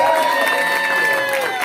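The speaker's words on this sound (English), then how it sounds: "give a round of applause" A comedy club audience at the Laughing Skull in Lexington, Kentucky breaks into close, steady applause mixed with cheering and a few whoops, holding loud and dense throughout.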